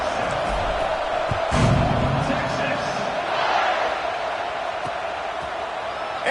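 A football stadium crowd roars steadily before the kickoff of a Boise State game, with a broad, distant wash of cheering and a commentator talking over it.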